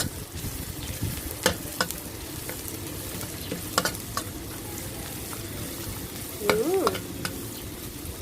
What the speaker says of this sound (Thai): ใส่ลงไปแล้วก็ผัดให้หอมดีเลยค่ะ ผัดให้ส่งกลิ่นหอมดีเลยนะคะ